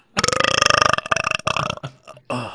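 A long, loud, croaking burp with a rapid pulsing rattle, followed by a shorter gulping burp after a brief gap, close to the microphone with no speech.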